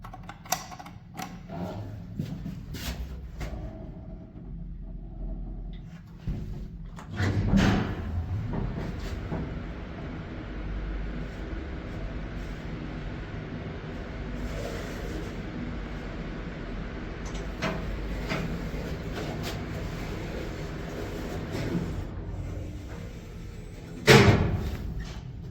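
An old Kone traction elevator in a building at Köpmansgatan 7, Nässjö, Sweden, hums and rumbles steadily as it runs, with loud clattering door slams near the start and the end.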